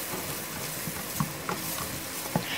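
Dragon chicken being stirred with tomato ketchup in a pan, a soft steady scraping with a few sharper spoon knocks against the metal over a quiet sizzle.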